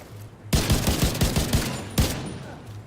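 Bursts of rapid automatic gunfire from The Division 2 video game, loud and close: a quick volley of about eight shots, a pause, then a second short burst, with no talking.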